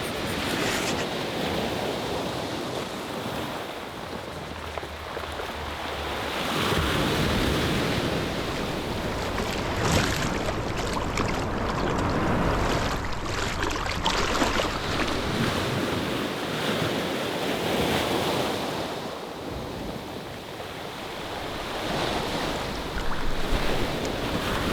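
Ocean waves with a strong tide on a Jamaican beach, a loud continuous wash of surf that swells and recedes in broad surges, with gusty wind buffeting the microphone and no voices.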